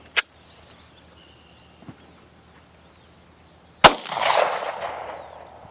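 Single loud gunshot from a Gen 4 Glock pistol during a torture test, a sharp crack near the start, then quiet, followed by a second sharp report with a long noisy ring-out and clatter.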